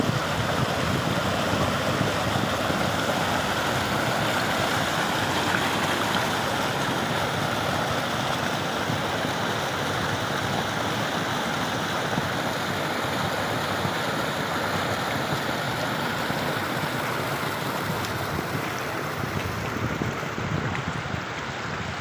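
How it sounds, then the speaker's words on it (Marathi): A stream near a weir by Mangrajwadi and Kasarwadi gushes steadily over a small waterfall, a dense, even rush of water holding at one level for the whole stretch with no voices. "पाणी खळाळून वाहत आहे"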